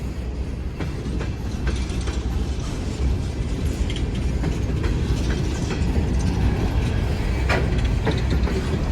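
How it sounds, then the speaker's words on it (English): An empty BNSF coal train rolls past close by, a steady, loud rumble of wheels on rail with repeated clicks and clanks of the cars, continuous for the whole stretch with no talking. "There's another coal train."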